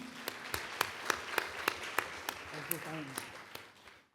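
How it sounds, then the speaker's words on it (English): Conference audience applauding panelists at an evaluation event: a sparse, uneven patter of claps from a modest crowd, with a few sharp nearer claps and someone speaking faintly underneath partway through. "So if we can applaud the panelists, please, and thank them."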